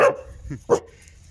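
A dog barks twice in quick succession, sharp and fairly close, with a brief gap between the two barks.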